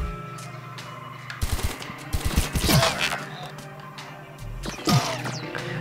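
Rapid gunfire from the penguin character in the bird shooter game Blazing Beaks: clusters of fast, crackling shots and impacts in two bursts, separated by a quieter stretch of game background sound.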